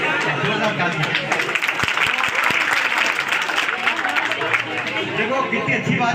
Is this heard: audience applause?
yes